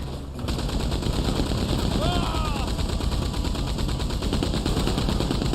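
Gunfire in the online western shooter Red Dead Online during a snowy multiplayer fight, with a dense, continuous rattle of rapid shots filling the whole stretch at close range and a high whistling tone briefly threading through.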